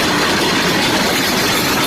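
A driverless train races along the tracks at speed, giving off a steady, loud broadband rumble and roar with no break and no voices.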